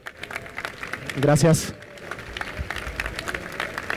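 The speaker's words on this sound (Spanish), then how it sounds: "quiero que le demos un fuerte aplauso" Audience applause breaks out for a speaker at a technology conference talk, a steady clatter of clapping running under a voice that speaks briefly in the middle.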